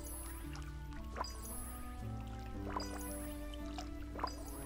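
Crops being watered in the video game Disney Dreamlight Valley: a few soft, drippy splash cues recur at intervals over steady background game music, all fairly quiet, with no talking.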